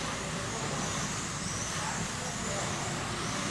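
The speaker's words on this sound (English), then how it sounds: "The sound of slot cars whizzing by." Slot cars whir past on a raceway track during an enduro race in a continuous whizzing hum, with a steady background roar and no clear pauses.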